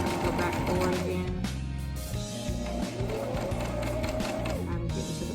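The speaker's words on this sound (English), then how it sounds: "So we're going to back stitch it, go back forward again." Sewing machine stitching a royal vest, running a straight stitch then reversing for a back stitch, with loud rapid mechanical whirring in bursts that shift pitch as the direction changes and brief pauses between runs.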